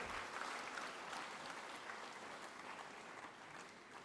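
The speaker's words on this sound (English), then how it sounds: "So give yourselves a huge round of applause" Audience applause fills an auditorium during an interactive session, a steady dense wash of many hands clapping at moderate level for the whole stretch without a break.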